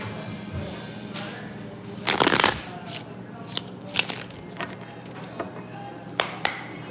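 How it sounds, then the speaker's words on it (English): A deck of cards is riffled in one short, crisp burst, followed by a few scattered light taps and snaps, with a steady low hum underneath. "One more shuffle."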